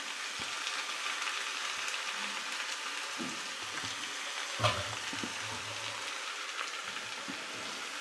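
Raw banana slices fry in oil, sizzling and crackling steadily at close range, a soft continuous frying hiss with occasional pops and a faint clink.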